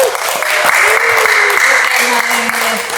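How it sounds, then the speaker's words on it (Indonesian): A crowd claps loudly and steadily for a few seconds, a thick wash of applause with faint tones and murmurs underneath. "Tepuk tangannya Pak Bayaran."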